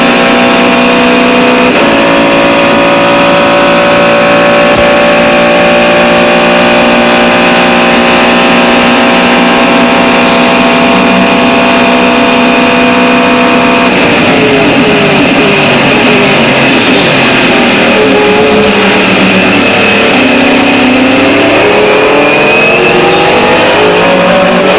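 Mercedes CLR race car at speed on the Mulsanne straight at Le Mans, heard onboard: a loud, sustained engine howl climbing through the gears with steady shifts, strong wind and road roar underneath, no talking.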